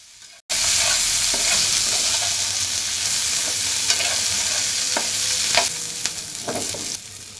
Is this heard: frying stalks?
yes